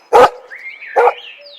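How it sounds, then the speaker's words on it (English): Timmy the dog gives two sharp, loud barks close by, a short pause between them, with faint whining tones trailing after. "Timmy the dog barked and laid his big head on George's knee"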